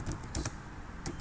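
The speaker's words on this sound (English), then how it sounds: "now we type in docker logs user" A short burst of computer keyboard typing as a command is entered, a few quick soft keystrokes in a quiet room.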